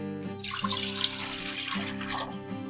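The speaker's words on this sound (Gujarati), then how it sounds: "અને આપણે આ લાઈનથી અડધું પાણી લીધું છે." Water runs from a tap into a steamer pot for making idli, a continuous splashing, filling rush heard up close for a few seconds with a low hum beneath.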